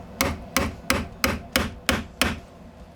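Hammer blows drive nails into 2x4 top plates and a beam during house framing, eight sharp, evenly spaced strikes about every third of a second, close and loud with no talk.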